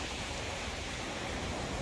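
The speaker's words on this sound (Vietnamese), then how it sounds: "Mùa mưa, nước ở hai bên hẻm đá này chảy xiết cho các bạn thấy." Fast water rushes through a rocky gorge in the far north of Cameroon during the rainy season, a dense, unbroken roar filling the whole moment with no voices.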